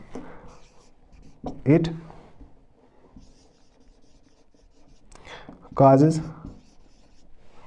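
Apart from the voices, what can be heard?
writing on a board while teaching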